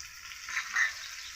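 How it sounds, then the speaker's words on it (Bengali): Tomatoes frying with already fried onions in a pan: a short burst of steady sizzling that swells twice, close and moderately loud, with no voices. "টমেটো দিয়ে কিছুক্ষণ কষিয়ে নিব"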